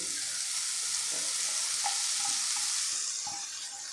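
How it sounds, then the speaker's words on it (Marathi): Fenugreek leaves sauté in a pan with bloomed cumin, making a steady close hiss of frying with a few soft stirring clicks, easing slightly toward the end. "आता ही मेथी आपल्याला फक्त परतून घ्यायची आहे"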